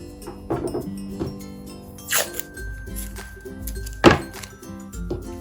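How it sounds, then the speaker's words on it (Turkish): Short scraping snips and a couple of sharp zipping cuts through macrame cord over faint room noise, close by, with a low thump. "Şimdi buralarını keseceğim."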